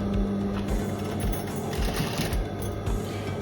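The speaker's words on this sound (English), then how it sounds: "So go ahead now and stitch it, and start with a reverse stitch" A sewing machine stitches fabric for a face mask, its needle whirring in a fast steady rhythm up close, running continuously with brief changes in pace.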